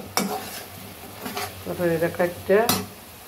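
Curry sautéing in a pan while being stirred, a soft sizzle underneath a few sharp scrapes and clinks of a spoon against the pan, close and brief.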